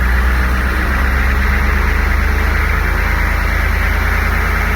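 A military Humvee that sat abandoned for 13 years runs loud and close, its engine churning with a steady rough pulse under a wash of broad noise, a smoky non-runner with suspected bad injectors.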